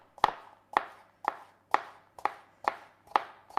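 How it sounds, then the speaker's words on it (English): A knife thinly slices shallots on a cutting board for spring rolls, giving seven crisp, evenly spaced chops about half a second apart, close and clear with no talking. "Now, with the shallots, we're just going to thinly slice."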